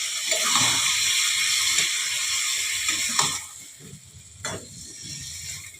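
Water is poured into a pan of cooking rui fish kata chochchori with fresh vegetables, giving a continuous splashing hiss broken by a few sharp metallic clanks.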